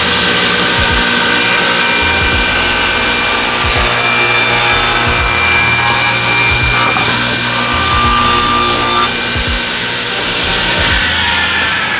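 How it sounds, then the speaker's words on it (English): Table saw with a sled cuts a piece of wood in half: a loud continuous whine with the blade biting through the board and spinning on alone, with no talking. "we're gonna take it over with our table saw sled and cut it in half"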